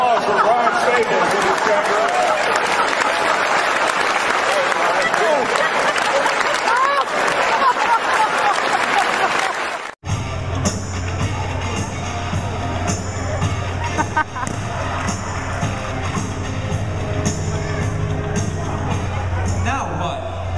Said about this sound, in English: let's get a round of applause for Brian Staples